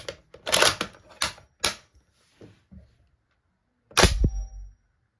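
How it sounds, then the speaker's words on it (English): A Bren gun is cocked and dry fired close up, giving a series of sharp metallic clacks and slides, then a pause before a final heavy snap of the action with a short ringing tail. "Now, let's cock and dry fire the gun."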